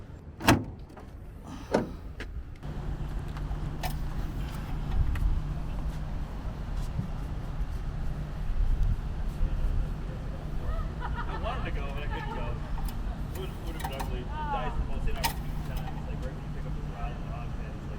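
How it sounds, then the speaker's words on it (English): Low, steady engine drone from a BMW E46 track car with an unexplained noise, humming underneath through the whole stretch, with a few sharp knocks at the start and voices talking over it. "So we have a little bit of engine noise."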